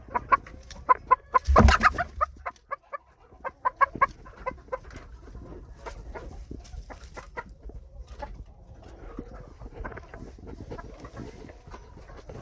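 Several hens and pullets cluck in short bursts, fairly close, with a brief louder flurry of squawking early on, then softer scattered clucks continuing.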